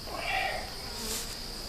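Bees buzz around the top of a honey beehive, a soft, continuous insect drone with faint wavering hum, fairly quiet and without voices.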